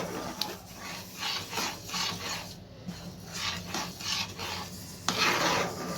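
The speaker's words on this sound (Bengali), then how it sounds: "এটাকে ভালো করে নাড়তে থাকবো যতক্ষণ না ঠিক মতো তৈরি হচ্ছে।" A spoon or spatula scrapes and rubs around a pan while a mango sandesh mixture is stirred, making repeated rasping strokes at a steady rhythm, close and fairly quiet, with no voices.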